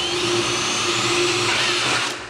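A power drill runs continuously at steady high speed, boring through a metal stud while a fireplace hearth is framed in a modern farmhouse build; the motor's whine is loud and close, then it eases off at the end.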